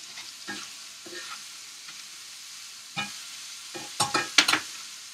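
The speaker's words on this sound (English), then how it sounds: "I'm just stirring up bacon and apples." Bacon and apples stirred in a pan, Cortland apples with pancetta, bursts of scraping utensil strokes over a low sizzle, sparse at first then quicker, louder clattering stirs toward the end, no talking.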